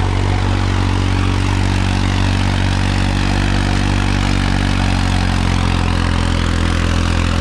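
A Farmtrac 60 tractor fitted with a turbo and a bored-out engine runs with a loud, steady, unbroken diesel drone, close by and alone with no talk.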